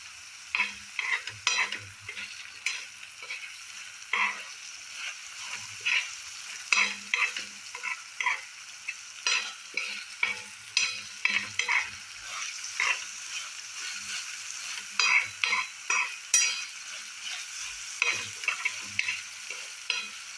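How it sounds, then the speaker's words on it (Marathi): Masala with curry leaves fries in a pan while being stirred, a continuous sizzle broken by frequent rhythmic scraping strokes of the spoon, close and fairly loud throughout. "आपण अजून एकदा हे हलवून घेऊया सगळं, म्हणजे त्याला मसाले लागतील छानपैकी."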